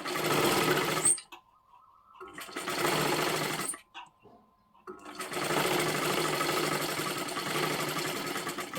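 A sewing machine stitches piping onto a blouse in three steady, whirring runs, the longest at the end, separated by brief quiet pauses; no talk.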